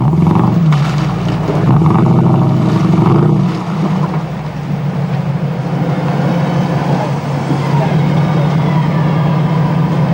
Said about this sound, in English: The CJ7 has a big V8 and more grunt than a wild pig.